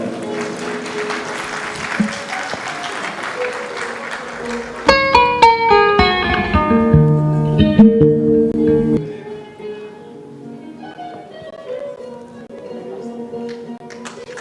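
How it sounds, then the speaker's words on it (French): Applause fills a hall at an award ceremony closing the fourth SENAMSCO edition in Guinea: steady, dense clapping for about five seconds, then it gives way to loud music with bright tones that fades to quieter playing. "Sous vos applaudissements"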